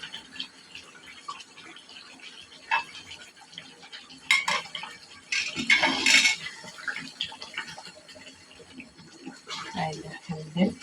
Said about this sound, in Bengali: এখানে এখন ভাজে রাখা ডিমগুলো দিয়ে দিচ্ছি।